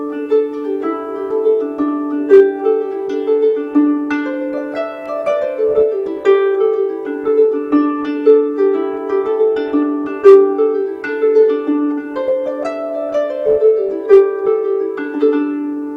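A tune on a double strung harp, the melody split between the two rows of strings, rings out in a lilting run of plucked notes with layered sustained tones, steady and close, with no voices.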